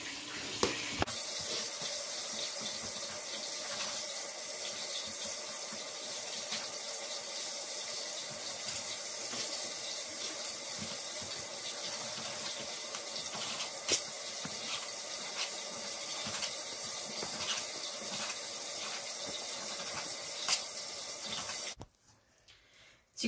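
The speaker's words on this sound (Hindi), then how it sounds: "चिकन को काट के मैंने धो लिया है।" Tap water runs steadily over cut chicken pieces, about 600 grams, being washed in a kitchen sink for a curry with potato and eggplant, a constant close hiss and splash with small clinks, then stopping abruptly near the end.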